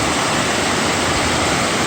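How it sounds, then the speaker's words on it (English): Wardens Falls on the Tuckasegee River roars as a dense, continuous wall of rushing water. It is loud and close, steady throughout with no other sounds. "This is Wardens Falls"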